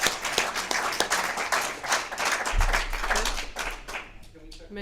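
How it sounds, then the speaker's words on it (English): Audience applause after a call to thank the tech crew at a rehearsal, a dense wash of clapping hands filling the clip at steady loudness, with a low rumble joining partway through and the clapping thinning toward the end. "round of applause for the tech."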